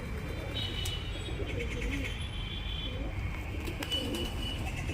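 Pigeons coo softly in low, steady murmurs while feeding on rice on a rooftop, over a constant background hum, with an occasional faint chirp.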